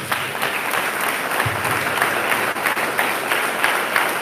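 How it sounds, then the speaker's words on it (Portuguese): Church congregation applauding steadily during a doctrine worship service, a dense continuous wash of many hands clapping at close range, with a brief low thump partway through. "Aplausos mais fortes."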